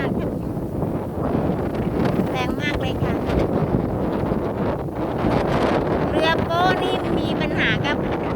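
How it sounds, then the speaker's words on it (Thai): Strong wind roars and buffets the microphone aboard a wooden tugboat running against the current and the wind, with constant loud rushing and someone narrating over it. "วิ่งทวนกระแสน้ำแล้วก็ทวนกระแสลมด้วย"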